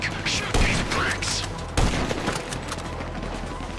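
A GTA 5 shootout with heavy bursts of gunfire and booming impacts at close range, dense and loud in the first half and then settling into a rumbling background. Voices shout over the shooting.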